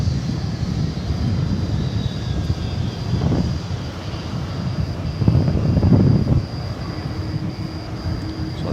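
UPS cargo plane, Flight 903 arriving from San Antonio, landing at DFW Airport at night, a steady distant jet engine roar with a brief swell midway.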